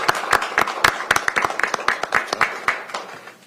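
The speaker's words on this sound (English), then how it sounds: "Let's give a round of applause." Sparse clapping from a small audience at a Pierce County Council meeting, a handful of distinct hand claps in an uneven rhythm, moderately close and fading slightly toward the end.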